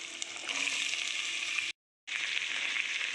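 Vegetables sizzle and fry in hot oil with browned urad dal and chana dal for mixed vegetable rice upma, a dense, steady hiss that drops out briefly before resuming.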